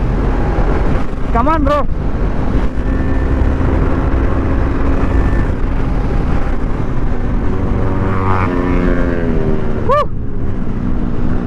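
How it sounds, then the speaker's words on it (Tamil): A KTM Duke 390 and a Yamaha R15 race, their exhausts droning loudly under heavy wind rush. Engine pitch rises and falls as bikes rev and pass, and someone speaks briefly. "அதில் எக்ஸாஸ்ட் சவுண்டு பார்த்தீங்களா, வேற மாதிரி இருக்குது"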